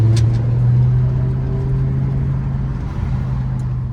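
V10 engine of a BMW M5 E60 running steadily during a calm night drive on empty streets, a low constant drone with a strong steady hum, close and continuous throughout.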